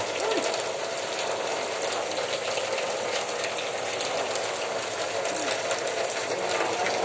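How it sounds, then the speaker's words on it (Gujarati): Very heavy rain pours down outdoors in Gadhada, a dense, constant roar of water drumming on surfaces that stays loud and unbroken from start to finish. "બહુ ભારે વરસાદ પડી રહ્યો છે"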